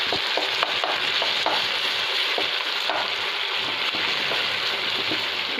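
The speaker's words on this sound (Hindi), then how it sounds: "इस तरह आपने सारे टमाटर को आहिस्ता आहिस्ता कर देना अंदर ही मिक्स" Chopped tomatoes sizzle and bubble in a pot, with repeated spoon scrapes and clinks from stirring over a constant frying hiss, close and steady, no voices.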